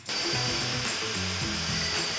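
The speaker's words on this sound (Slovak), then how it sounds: "vŕtanie a drážkovanie ide do tehly" A power tool drills and grooves into brick during house wiring work, a continuous loud grinding whine with shifting pitch steps throughout, steady and close with no speech.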